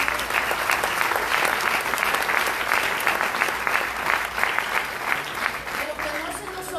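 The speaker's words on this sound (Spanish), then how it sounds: "aplauso al Señor" A church congregation applauds in praise, a dense, sustained wash of many hands clapping at moderate volume for several seconds, with voices calling out faintly beneath it.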